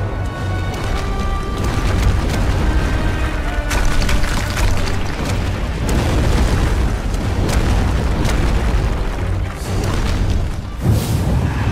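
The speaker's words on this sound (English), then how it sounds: "We did not sign up for artillery fire." Artillery explosions in the video game Sacred 3 boom continuously, heavy and close, with dense rumbling blasts layered over one another and sharper cracks scattered throughout.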